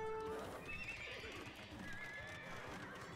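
Cavalry horses in the Age of Empires video game neigh and whinny repeatedly over a steady bed of clip-clopping hooves and battle noise, loud and continuous throughout.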